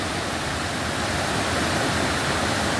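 Aruvikuzhy waterfall near Kottayam in Kerala, water plunging down in a dense, unbroken roar, loud and close with no voices over it.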